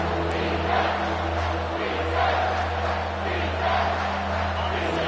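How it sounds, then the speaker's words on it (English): A college football stadium crowd roaring behind the defense on third down, at Miami versus LSU, a sustained dense roar with swelling cheers throughout. "Decibels rising as the crowd gets behind this defense on third down."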